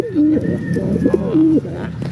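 A pigeon brooding on chicks gives a close, loud, rolling coo in repeated throaty phrases, heard alone over faint background.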